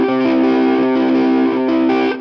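Electric guitar with distortion playing a sweep-picked arpeggio in a blues context, the notes bleeding into one another and ringing together as a sustained, loud chordal wash, with a brief re-pick near the end and no speech.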